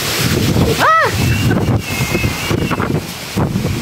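Loud, roaring typhoon wind buffets the microphone in heavy gusts while a voice speaks faintly underneath.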